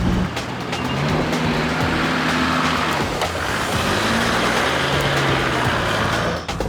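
A 4WD vehicle engine labours through a deep rut off-road, a continuous close rumble with shifting revs and rattling over roughly seven seconds.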